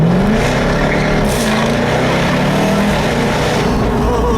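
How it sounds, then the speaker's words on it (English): A 2015 Jaguar F-Type R Coupe accelerates hard, its engine roaring loud and close with a rising, sustained growl and rumble that holds strong throughout the run. "And another acceleration, because it just never gets old."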